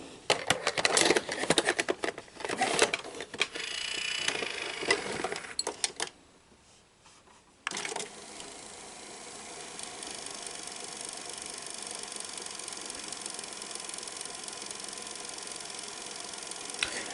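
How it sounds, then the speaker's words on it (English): A Sanyo 7500 cassette deck being plugged in, switched on and loaded, giving close mechanical clicks and clatter, then a short near-silent pause before a steady low motor whir and hum with no talking. "plug it in, power it on, and we'll go ahead and put the cassette in"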